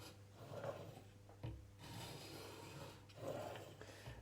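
A narrow chisel in a honing guide is drawn back across a sharpening stone in a few slow, soft rasping strokes, quiet and close, with short gaps between passes.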